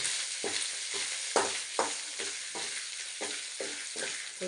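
Curry leaves sizzle in a pan of oil for idli upma, a steady bright hiss broken by repeated scraping stirs at a regular pace, close and moderately loud with no talking.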